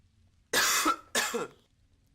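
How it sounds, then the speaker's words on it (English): Two quick, harsh coughs from one person close to the microphone in a quiet room, with a short gap between them. "Hold on, I'm gonna cough."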